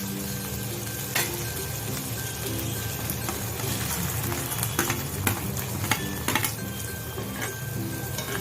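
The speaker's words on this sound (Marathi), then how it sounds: "तेल मस्त गरम झालेलं आहे मित्रांनो आता आपण याच्यामध्ये कांदा टाकणार आहोत" Chopped onion goes into hot oil for shev bhaji, and a steady sizzle runs under repeated clinks and scrapes of a utensil against the pan.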